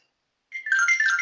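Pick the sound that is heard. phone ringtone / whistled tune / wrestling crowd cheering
phone ringtone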